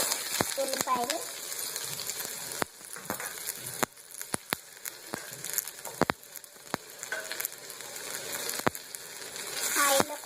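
Stuffed brinjals fry in a pan with a steady close sizzle, broken by repeated sharp clacks of a spoon stirring against the metal, with a louder crackling burst near the end.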